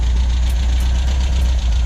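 An MGB sports car engine with an SU HIF4 carburettor idles steadily, a close, even low rumble with a faint regular pulse and no voices over it.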